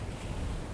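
Sea waves on the Wadden Sea coast wash in a steady, faint broadband rush with low wind rumble, continuous and distant, no voices.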